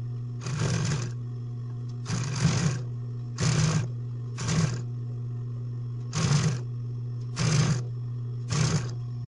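A sewing machine stitches a ruffled hem in six short bursts of rapid whirring stitches, separated by pauses over a constant motor hum, close by with no talk.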